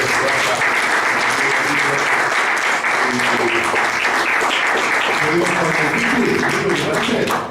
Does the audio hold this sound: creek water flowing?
no